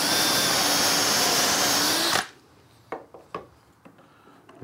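A power drill runs steadily for about two seconds while boring a dowel hole through a Dowelmax jig, then cuts off abruptly, leaving a few faint clicks and knocks of handling.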